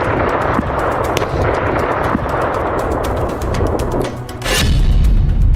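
Rapid, distant blasts crackle and thud in a continuous barrage at a missile depot, then a heavier boom bursts out near the end, leaving a deep rumbling roar.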